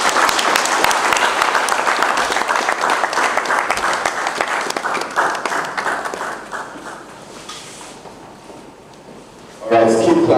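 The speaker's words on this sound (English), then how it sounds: "let's keep clapping until she gets back to the seats" An audience at an OOK Farms agriculture symposium in Nigeria gives sustained, dense applause that gradually thins and fades, before a voice starts speaking near the end.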